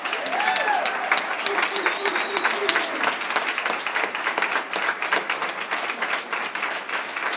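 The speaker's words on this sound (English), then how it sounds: "Let's give a real, true round of applause with some whooping to these people." An audience at a public conversation on mental illness and addiction in Oklahoma breaks into a full round of applause with whoops and cheers, dense clapping sustained throughout with a few voices rising above it.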